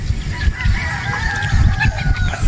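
Gamecock roosters at a game farm in Batangas give loud, close overlapping squawks and partial crows against a busy rumble of background noise.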